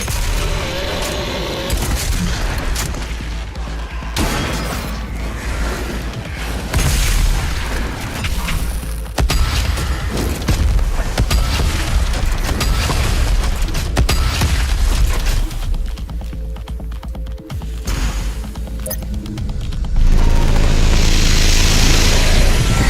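The BFG 10,000 fires in a video game, a long run of heavy, loud booms and blasts with mechanical rumbling layered beneath, building to a dense, roaring burst at the end.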